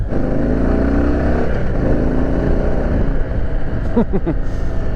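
A Harley-Davidson Heritage Classic motorcycle rumbles loudly on a chilly ride in Austin, Texas, its deep engine drone steady and close, with a few brief rising rev-like bursts near the end.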